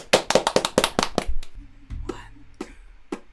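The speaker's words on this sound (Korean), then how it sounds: "박수!" Applause at a live music show, a burst of quick sharp claps that thins into a few scattered claps, with a short low tone partway through.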